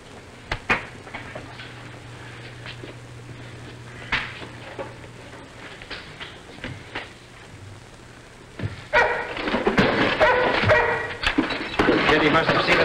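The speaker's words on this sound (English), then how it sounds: "That dog's in back of the shack." Behind a shack in a 1950s radio-style mystery drama, a dog barks and whimpers at a distance, with sharp yips scattered under people talking, then a louder, busier stretch of barking toward the end.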